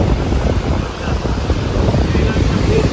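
Cool wind blowing steadily at the seaside on a beach, a constant broadband rush with low rumbling buffets against the microphone, loud and continuous throughout.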